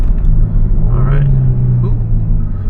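A Kia Stinger engine during a paddle-shift downshift, heard as a loud, close, steady low rumble that swells slightly mid-way with no clear gear crack.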